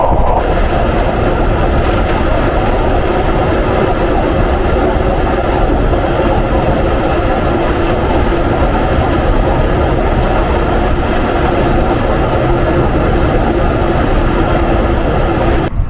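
Avijatri commuter train on its inaugural run on the direct Dhaka–Gopalganj line, heard from inside as a loud, steady rumble and rattle of wheels on rails that continues unbroken with no talk.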